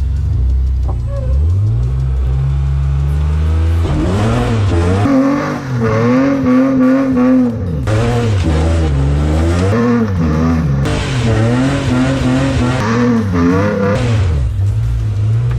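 A rally car doing a burnout with the clutch, left foot on the brake and right foot on the throttle: the engine revs hard in repeated rising and falling surges while the tires squeal, loud and close throughout.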